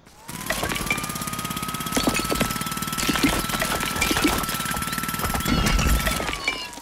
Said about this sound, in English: demolish the garage walls. Uh, jackhammer. Jackhammer.